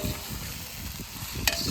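Onions frying in a pan make a short, steady close-up sizzle with one sharp tick near the end and no voices.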